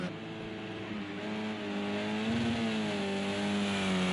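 Subaru WRX engine note in a racing video game at Sonoma, a loud sustained drone with rising and bending pitch as the car oversteers, mostly alone without talk.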